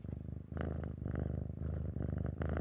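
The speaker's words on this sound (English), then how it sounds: "can you hear the purring?" A cat purrs close and loud in a steady rhythm of inhale and exhale rumbles, with no other sound.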